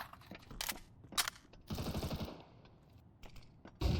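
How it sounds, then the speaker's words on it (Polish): Gunfire in a Counter-Strike round, with several loud bursts of automatic fire and single shots scattered across the moment, a dense volley in the middle, and a sharp shot closing it. "Też fajna strzelanina."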